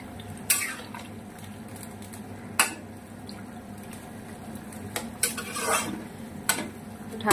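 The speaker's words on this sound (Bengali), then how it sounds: "আর একটু নেড়ে দেবো।" Fish curry being stirred in a pot with fried fish pieces added to the bubbling gravy, giving a few sharp scraping clinks against the pot over a low simmering background, close and fairly quiet with no talk.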